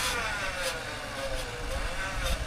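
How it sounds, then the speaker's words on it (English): A 9,000 pound winch strains to pull an off-road car along a rough river track, a steady mechanical whine and engine drone heard up close, with no talking. "Right about now, you can hear that winch really struggling."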